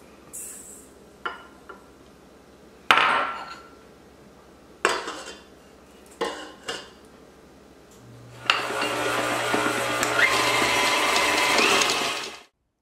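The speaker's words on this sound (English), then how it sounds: "First, I'm going to cream the butter and the sugar until it's light and fluffy." Electric mixer creaming butter and sugar in a bowl, preceded by several clinks and knocks of utensils and dishes, then a steady loud whirring drone for about four seconds before cutting off.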